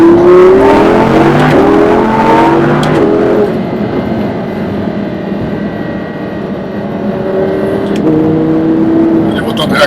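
A naturally aspirated Audi V10 revs hard and loud, the pitch sweeping up through the gears, then settles to a lower drone before climbing again, with a voice speaking over it.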